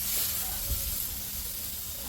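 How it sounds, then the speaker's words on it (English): Continuous hissing sizzle of several steaks on a hot griddle, steady and moderately loud, with a faint low rumble beneath. "Got some good sizzle action going on all of these steaks."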